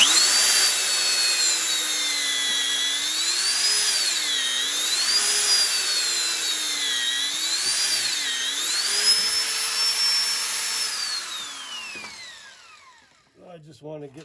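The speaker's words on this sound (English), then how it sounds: "This 2-inch brush is a little large for going in here, so it's pretty tight." A Makita drill spins a 2-inch wire brush against rust inside the frame of a 100 series Toyota Land Cruiser. Its loud, steady whine rises and falls in pitch as the load changes, then winds down near the end.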